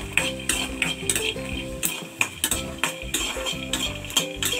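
Garlic, cinnamon and dried chillies fry with roasted peanuts in a pan, with steady stirring and repeated sharp metal clinks of a spoon against the pan over a soft sizzle, close and moderately loud.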